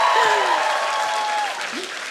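Studio hall audience applauds steadily for about two seconds, a dense, even clapping that fades slightly toward the end, with a voice briefly heard over it.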